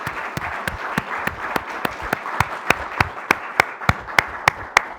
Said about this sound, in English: may I get a round of big applause for Mr.